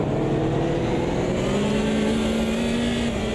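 A Group 5 race car in Automobilista 2 at Laguna Seca spins its wheels under hard acceleration, its engine roaring loud and steady with a rising tonal whine and no voices over it.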